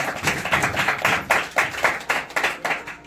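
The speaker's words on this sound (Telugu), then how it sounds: "చప్పట్లు కొడదాం దేవుని మహిమకరంగా, గట్టిగా." A church congregation claps loudly and steadily in praise during a Sunday service, a dense wash of many hands keeping a regular rhythm for several seconds with no talking over it.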